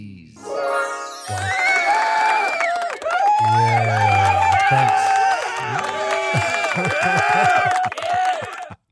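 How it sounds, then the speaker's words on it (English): A crowd cheers and whoops loudly for Emmanuel Davies, the godfather of Portsmouth basketball, a sustained roar of voices with musical backing running nearly nine seconds before cutting off. "now stand and cheer for your godfather of Portsmouth basketball"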